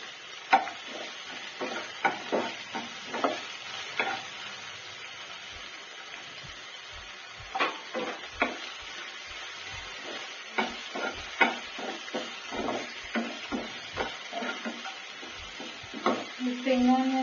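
Spring onions frying in a pan hiss softly and steadily while a spatula scrapes and taps through them in irregular strokes, close and moderately quiet throughout.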